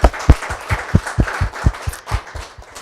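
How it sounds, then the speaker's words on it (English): Audience clapping for the hosts at a book signing and reception, a thin scattering of distinct claps in an uneven rhythm that tapers off, close by, with no talking. "Let's give them a round of applause for hosting us here."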